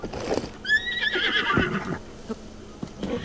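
A horse in The Legend of Zelda: Breath of the Wild gives one loud, close whinny with a falling, wavering pitch, followed by faint hoof clops and game ambience.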